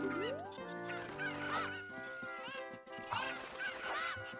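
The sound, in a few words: Cucco chickens clucking in Ocarina of Time video game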